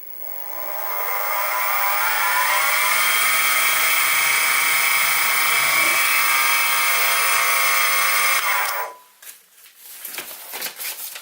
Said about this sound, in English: So I think we're good to go with this centre drill, so we'll just give it a try.